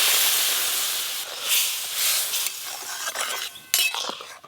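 Boiled lentils poured over fried onion and ridge gourd in a pan set off a loud hiss that fades unevenly, followed by soft bubbling and a brisk clink of a utensil.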